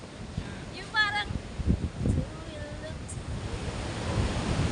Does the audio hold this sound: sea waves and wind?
yes